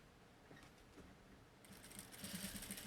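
A sewing machine stitches a backpack strap with backstitching, a quiet mechanical run that picks up partway through into a faster, brighter whirring rattle of rapid stitches, close by but low in level.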